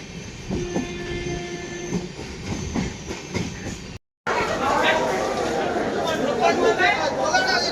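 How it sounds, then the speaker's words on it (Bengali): Local train running between Howrah and Liluah, heard from inside a carriage: a rumbling, clattering wheel rhythm and a long horn tone, with passengers chatting throughout; after a brief cut the rolling rumble grows louder and rougher. "হাওড়া থেকে ট্রেনে উঠেছি লিলুয়া যাবো বলে"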